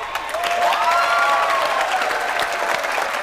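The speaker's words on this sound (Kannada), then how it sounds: "ಫ್ಯಾಂಟಾಸ್ಟಿಕ್, ಚಪ್ಪಾಳೆ." Studio audience applauding on the Kannada game show Super Minute, a steady wash of clapping that holds for about three seconds with a faint whistle-like tone gliding through it.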